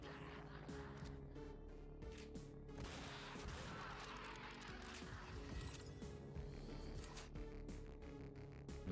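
Shotgun blasts and other gunfire ring out in the Project Warlock II video game, a dense run of sharp shots amid busy game effects and music, moderately loud and continuous.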